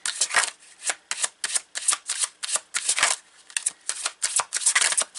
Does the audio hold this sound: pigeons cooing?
no